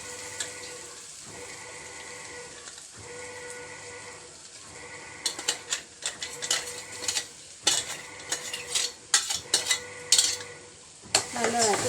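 Ground coconut chutney with chillies and curry leaves sizzles in a pan, first a steady fry, then a spatula scraping and clattering against the metal in quick irregular strokes, close and with no talking.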